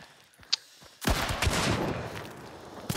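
Gunfire in a first-person shooter video game: one sharp shot early, then a loud sustained burst of rapid automatic fire lasting about two seconds, with no talk.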